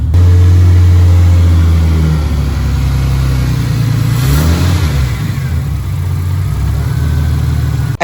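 A Ford AU Falcon's engine runs loud and close after its first start in years, a deep steady drone with a brief rev swell in the middle before settling back to a rough idle.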